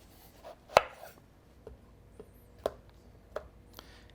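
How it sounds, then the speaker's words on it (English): A knife cuts zucchini halves on a cutting board during a cooking demo for a zucchini-tomato egg bake, giving a few sharp, separate chops with pauses between them, close and fairly quiet. "And then these 2 halves, I'll cut them in half."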